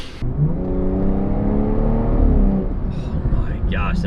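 A BMW F30 340i on a test drive accelerates hard from inside the cabin, its engine note climbing in pitch in a loud, steady rise before easing off as a soft voice murmurs near the end.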